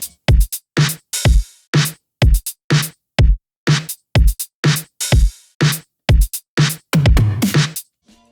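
A steady run of punchy tom hits panned left and right, roughly two per second, building into a denser, rumbling flurry of low toms near the end before stopping.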